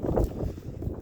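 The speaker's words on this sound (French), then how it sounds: "Le vent à -15, ça réveille." Cold winter wind at minus fifteen degrees blows outdoors over icy, frozen ground, a steady low rumble of gusts buffeting the microphone for the whole moment.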